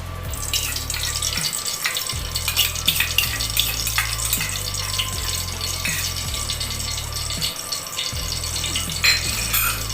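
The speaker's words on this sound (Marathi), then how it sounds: "मी तेल टाकते. तेल टाकलं आणि आता थोडं तूप टाकते. मी दोन्ही मिक्स टाकते." Oil and ghee sizzle in a pan at the start of making dal khichdi, a steady broadband hiss running throughout with intermittent low rhythmic thumps from a nearby appliance.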